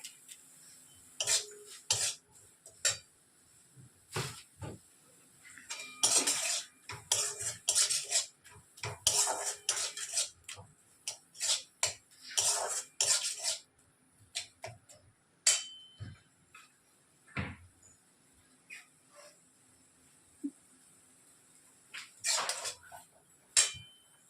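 Prawns with a pinch of sugar are sautéed and stirred in a pan, giving dense runs of quick metallic scrapes and clinks from the spatula, broken by short pauses, fairly quiet overall.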